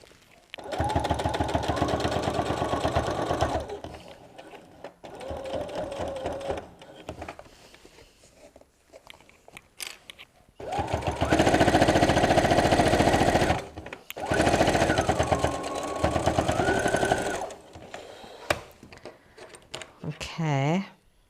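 A sewing machine stitches a straight quarter-inch seam on a picnic tote bag, whirring steadily in several runs of a few seconds each with short pauses between them, loud and close.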